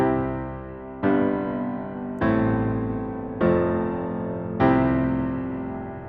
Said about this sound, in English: The first mistake is holding the sustain pedal down the entire time.